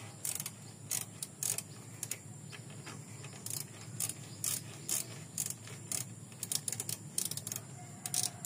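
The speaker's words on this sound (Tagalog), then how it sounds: "So luluwagan lang natin yung tornilyo niyan" A ratchet loosens a footrest screw on a Yamaha L2gf motorcycle in rapid bursts of close metallic clicking, pausing briefly between strokes over a faint room background.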